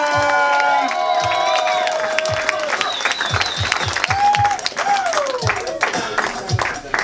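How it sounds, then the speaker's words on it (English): A comedy club audience applauds and cheers for comedian Chris Estrada, a loud continuous wash of clapping with whoops and shouts, and a voice speaking over it at the start. "Please clap it up for Chris Estrada!"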